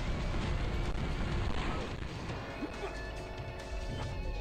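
A cannon bucket special attack in the video game Ben 10 Alien Force: Vilgax Attacks lands as a heavy, booming crash, with a rough rumbling blast that fades over a few seconds.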